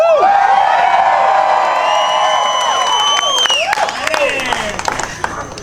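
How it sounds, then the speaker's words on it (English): A campout crowd cheers, whoops and screams for a woman who has just won a Ford Ranger and a Harley Davidson. The loud, excited shouting rises and falls, with scattered claps and yells near the end. "Oh, she's screaming!"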